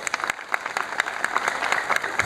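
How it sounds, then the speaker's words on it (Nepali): An audience at a public rally in Pedong breaks into brisk applause to welcome a guest, a dense patter of many hands clapping at close range with no voices over it. "तपाईँहरूले जोरदारले एकताल उहाँलाई थपडी मारेर स्वागत जनाइदिनुहोस्"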